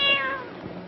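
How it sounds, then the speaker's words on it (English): A single cat meow, close and clear, with a drawn-out falling tone lasting under a second. "Kitty, kitty, kitty. Come on, kitty."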